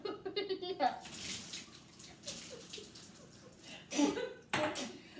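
Water pouring into a bowl while baking, a running splash with brief gushes, under a child's and an adult's chatter.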